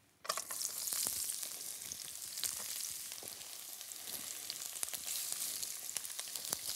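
Vegetables, including carrot, onion, pepper and soybean sprouts, sizzle loudly in vegetable oil in a wok, a dense crackling fry that bursts in abruptly and continues with scattered pops and clatter of stirring, no speech.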